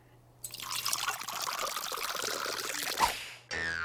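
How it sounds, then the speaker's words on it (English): Water pours steadily into a large jar with a bright splashing gurgle, close up, then cuts off abruptly near the end. "Take a large jar and you fill it almost to the top with water."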